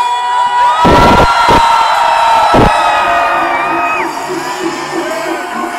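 A large festival crowd at Corona Music Fest in Querétaro shouting and cheering loudly at a live concert, sustained roaring voices with a few sharp bursts near the start.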